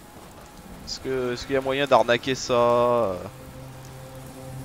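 Steady rain falls in the video game Fallout 4, a soft continuous patter that runs under someone speaking in the middle and goes on alone before and after.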